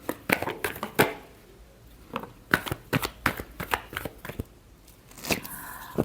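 Tarot cards are shuffled by hand in a series of quick, sharp riffling bursts and taps, close and fairly crisp, with short pauses between bursts and no talk.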